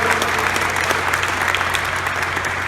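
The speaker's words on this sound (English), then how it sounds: "Let's give Kevin Nagel and Ben Gumper, our Sacramento Republic team, a big round of applause for all their work." Sustained applause from an audience at a Sacramento Republic FC stadium press conference with the City of Sacramento, dense steady clapping held at an even level throughout, with no voices over it.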